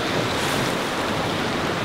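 Ocean surf rolls in at Samila Beach in Hat Yai, a loud, continuous wash of breaking waves with wind buffeting the microphone and no voices.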